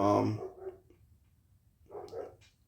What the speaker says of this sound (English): excuse the noise in the background, it's my dog.